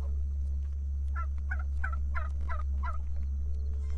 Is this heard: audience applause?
no